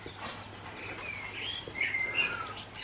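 Birdsong outdoors at 4 a.m., a few faint distant chirps and whistles over a quiet hiss of background noise.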